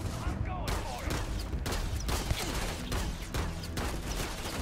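Pistol fire in Starfield, a sci-fi shooter game: repeated sharp shots stepping through a dense, steady bed of game music and effects, each crack fairly close but not dominating, with a voice speaking over parts of it.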